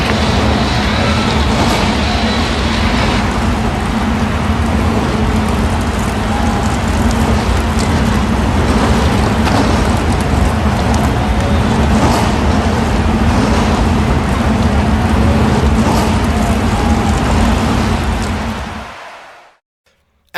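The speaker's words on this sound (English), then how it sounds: "The engines are fired here in Nashville." NASCAR race car engines fire up together at the Nashville Fairgrounds, a loud, dense, steady roar that holds for nearly twenty seconds before cutting off abruptly into silence.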